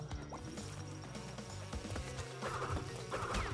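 Buzzing bees chasing the player in Crash Bandicoot N. Sane Trilogy, a continuous insect hum that swells near the end, mixed with the game's music, thuds and effects, with no voices.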